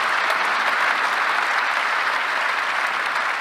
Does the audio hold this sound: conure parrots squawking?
no